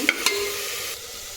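Chopped onions sautéing in a pan as they turn reddish, giving a brief, fairly quiet sizzle with a couple of sharp utensil taps near the start, then a steady soft hiss.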